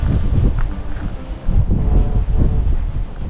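Strong wind blowing outdoors during open-air fish cooking, gusting in rough, rumbling surges that buffet the microphone with low roaring pulses throughout.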